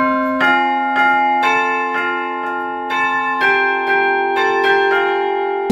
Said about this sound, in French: Les cloches de l'église Saint-Didier de Courzieux nous invitent à les rejoindre.